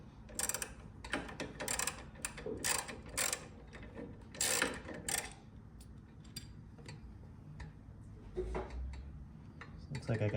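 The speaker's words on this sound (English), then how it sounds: "I should be able to stick a 1/2-inch wrench in there and then hit it with this long 1/2-inch socket" Ratchet wrench snugging a bolt on a motorcycle exhaust during an install, giving bursts of quick clicking ratchet strokes, close and crisp, with pauses between and quieter handling noise.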